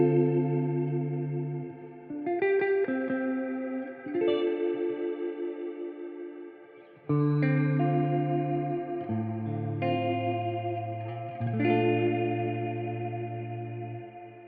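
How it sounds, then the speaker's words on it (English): A Meris Mercury 7 reverb pedal produces lush, shimmering trails with vibrato added to the reverb input, as sustained chords bloom and waver over about fifteen seconds, loud and continuous with no voices. "It adds vibrato to the reverb input for lush, haunting trails."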